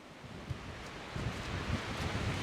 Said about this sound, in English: it's really windy and it's blowing the trees above this ruin